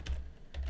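Keystrokes on a computer keyboard while editing a version name in Google Slides: two short, soft clusters of taps separated by a brief pause, close and quiet.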